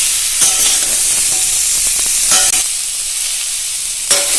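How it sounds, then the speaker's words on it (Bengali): Papaya and other vegetables frying together in a pan, a loud close sizzle broken by a few sharp stirring scrapes and bursts of spitting oil. "আর পেঁপেটাও দিয়ে দিব একসঙ্গে মিশে আর ভেজে নেব"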